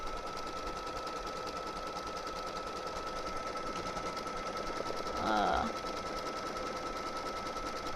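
A home embroidery machine stitches a leather patch onto a beanie, giving a steady, fast mechanical whirring hum throughout with a brief louder clatter partway through.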